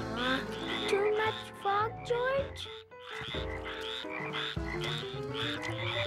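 Frogs kept in tanks croak in a busy overlapping chorus of rhythmic, bubbly calls, near and fairly loud, with a brief pause midway before the croaking resumes.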